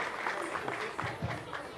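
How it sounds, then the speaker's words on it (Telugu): A crowd at a Jana Sena Party anniversary celebration in Vijayawada applauds performing artists after a fire act, a steady wash of clapping with faint voices mixed in. "కళాకారులు గట్టిగా ఒకసారి చప్పట్లు"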